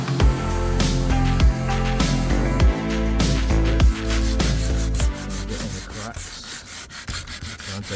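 Continuous, close rasping and scrubbing as 120 grit sandpaper works over a garage door, loud and steady with rhythmic back-and-forth strokes throughout.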